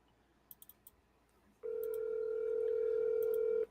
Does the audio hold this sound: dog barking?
no